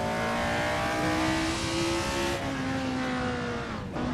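Loud, continuous high-revving racing car engine whine in Assetto Corsa, pitch climbing and shifting with gear changes, close and unbroken throughout.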